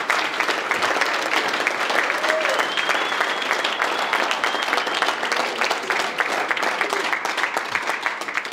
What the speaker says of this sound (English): I want to give one more round of applause to all 8 of them